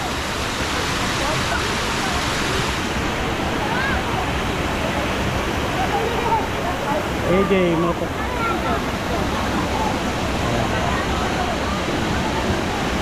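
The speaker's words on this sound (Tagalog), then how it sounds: "Ganda ng lagas-las eh." A waterfall roars as a steady, loud rush of water, with a brief voice speaking over it partway through.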